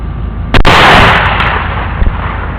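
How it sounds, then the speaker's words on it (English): A suppressed .223 rifle firing 55-grain rounds gives one sharp, loud report with a lingering, decaying tail, followed by a much fainter pop near the end. "All right, so just shot 2 of the 55 grain"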